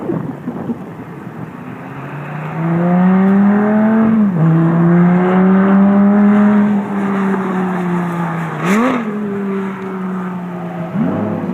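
An exotic supercar accelerates on a track, its engine note climbing steadily with rising harmonics, then dips sharply on downshifts before climbing again, loud and sustained with a faint rumble beneath.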